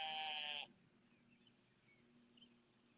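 A sheep on a farm gives one loud, close bleat at the start, then faint ambient farm noise continues.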